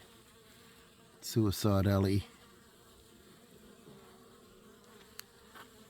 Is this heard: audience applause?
no